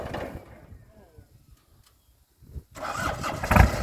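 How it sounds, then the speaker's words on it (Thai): A four-cylinder turbo engine on a farm water-pump vehicle cranks, goes quiet briefly, then catches and roars loudly into a rough, revving idle near the end. "อ่ะติดเครื่องใหม่"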